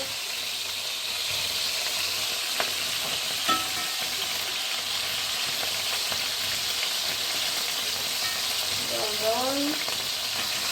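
Chicken browns in a pan for Catalan chicken rice, a loud steady close sizzle with occasional utensil taps and stirring, and a short spoken remark over it.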